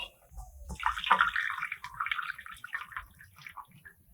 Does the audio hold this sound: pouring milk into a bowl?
yes